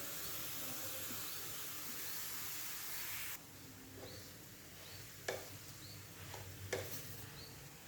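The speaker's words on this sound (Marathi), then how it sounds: "आणि आता या तुपामध्ये सर्व हा किस घालायचा आहे आणि व्यवस्थित असा परतवून" Grated halwa mixture is stirred in hot ghee, giving a steady soft sizzle with a few scraping strokes in the second half; no one speaks.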